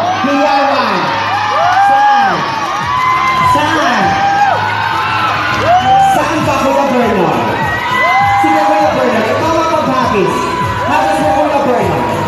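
A large crowd at a Filipino event whoops, cheers and shouts in repeated rising waves, loud and close, with voices yelling over one another throughout.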